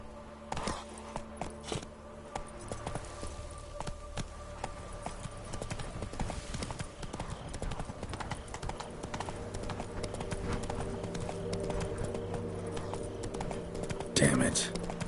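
A horse's hooves clip-clop in a steady rhythm while it is ridden in The Witcher 3, under game music and ambience, with a voice speaking at moments.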